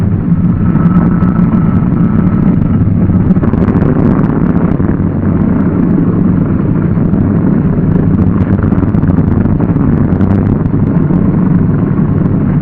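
A Douglas DC-3's piston engine fires up and settles into a loud, steady, throbbing roar that fills the whole stretch without a break, close by and alone with no voices.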